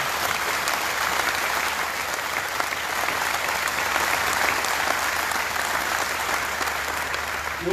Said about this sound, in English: Please join me in a round of applause for these outstanding units represented by their colleagues.